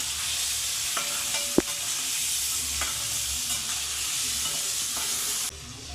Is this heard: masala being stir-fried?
yes